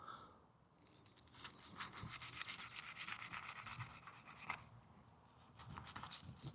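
A Shieldon Tranchodon folding knife sawing through thick, abrasive sisal rope, a close, rasping scrape of blade on fibre that builds into a sustained stroke, pauses briefly, then resumes.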